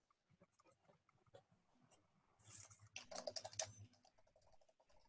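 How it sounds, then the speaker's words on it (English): Fast typing on computer keyboards during an online session for Catholic PK-8 school staff: faint, rapid key tapping throughout, with a louder, busier burst of clatter in the middle. "Man, people are typing so fast."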